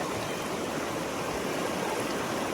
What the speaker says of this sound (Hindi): इस पानी का फ्लो तेज है